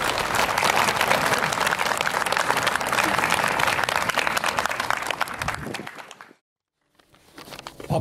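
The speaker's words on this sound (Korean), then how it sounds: "두 분에게 큰 축복의 박수 부탁드리겠습니다." Wedding guests applauding loudly at a ceremony, a dense sustained burst of clapping that cuts off abruptly into a brief silence before faint room sound returns.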